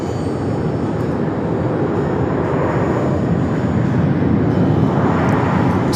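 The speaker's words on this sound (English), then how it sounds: "Flight coming in from Los Cabos, American 2128 on the A321" American Airlines A321 jet arriving from Los Cabos at Phoenix, a loud steady engine roar that holds unbroken and swells slightly toward the end, with no voices.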